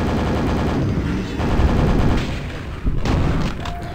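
A rocket launcher fires in the first-person shooter Quake, with booming blasts layered over dense, continuous game noise and a sharp burst near the end.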